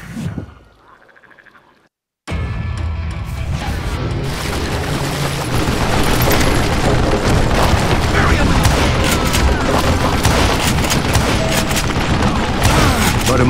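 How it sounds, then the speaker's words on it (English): A sustained volley of gunfire from many shooters in the Call of Juarez Gunslinger western video game, bursting in loudly after a brief quiet start and continuing as dense, heavy shooting throughout. "a fusillade of bullets come raining down from on high"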